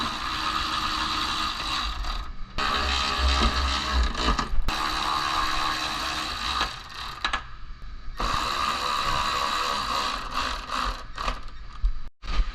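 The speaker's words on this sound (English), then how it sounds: "I'll reinstall the screws that I had used earlier to temporarily secure it" A ratchet runs screws back in to hold a car quarter panel skin in place. Steady mechanical clicking and grinding comes in long runs broken by short pauses, close and fairly loud, with no voices.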